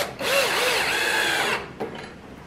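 A power drill drives a screw into a board to mount a modified clamp for a Kreg Jig R3. One loud, close, sustained whir rises slightly in pitch, then stops, followed by a single light knock.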